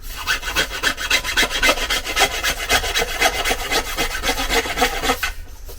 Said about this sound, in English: or file it down like I am, it just gives it a little bit extra room for the sawdust